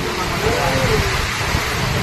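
Typhoon Nika rain and wind lashing Purok 7, Labinab, Cauayan City, Isabela, in a dense, unbroken roar that fills the whole two seconds with a steady, loud wash of noise.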